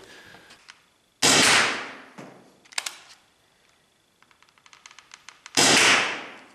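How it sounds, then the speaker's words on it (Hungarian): An Umarex T4E HDS68 paintball marker firing hard plastic spin-stabilised projectiles from ten metres: three sharp, loud bursts of gas discharge stand apart, with softer clicks and rattles of handling between them and no talk. "Tíz méterről, hat lövés, két csőből, ads 68 a kemény műanyag forgás stabilizált lövedéket használva"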